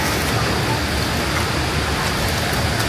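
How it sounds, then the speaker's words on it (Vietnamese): Heavy rain pours steadily as a dense, even wash of broadband noise throughout, loud and unbroken, with no clear voices standing out. "Ôi ôi, mưa, lại mưa to rồi chú."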